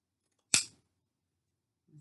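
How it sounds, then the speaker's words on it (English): A single sharp snip of scissors cutting ribbon, crisp and close, followed by quiet and a faint soft sound near the end. "when I cut with this pair of scissors"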